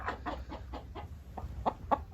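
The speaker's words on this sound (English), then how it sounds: "got a chicken on my back." Chickens clucking at a backyard six-compartment nesting box, a steady run of about eight short, fairly close clucks with the last two louder, over low background rumble.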